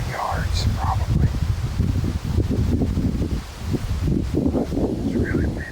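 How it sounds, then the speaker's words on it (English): Strong gusty wind in the woods at a whitetail hunting spot, a constant low rushing roar buffeting the microphone, with faint rustling and a voice murmuring over it. "It's really windy."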